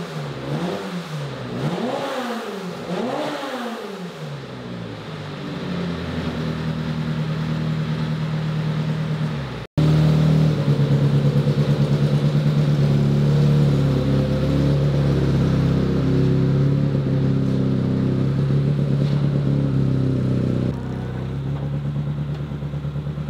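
A homemade Fiat rally car built for Finnish jokamiesluokka racing revs repeatedly with rising and falling engine pitch, then pulls away in a loud, sustained acceleration that holds steady before easing slightly near the end, with no talk.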